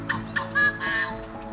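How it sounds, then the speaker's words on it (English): Yellow-headed blackbird calls ring out in open sagebrush country, a series of short sharp whistled notes followed by a longer buzzy rasping phrase, close and clear over a faint hum. "Yellow-headed blackbirds."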